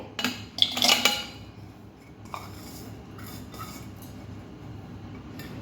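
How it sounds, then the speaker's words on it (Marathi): Jaggery dropping into a cooking pot that holds measured oil, giving a short cluster of metallic clinks and scrapes near the start, followed by quiet kitchen ambience. "या पातेल्यामध्ये ना गूळ घालून घ्यायचा आहे"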